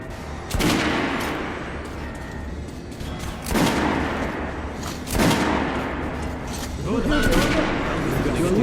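Gunfire in the video game Metro: Last Light Redux, several loud, close shots and bursts with heavy booming impacts spaced a few seconds apart, mixed with voices talking.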